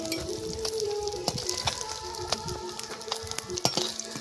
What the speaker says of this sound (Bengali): এই যে মাছটা লাল লাল করে ভেজে নেবো